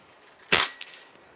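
A single sharp rifle shot fired during a test of a Discovery ED PRS GEN2 5-25x56 riflescope, loud and close, with a brief fading echo after the crack.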